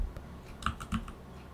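Typing on a computer keyboard into the effects search box of Adobe Premiere Pro: a handful of sparse, soft key taps, close by and fairly quiet, with no speech.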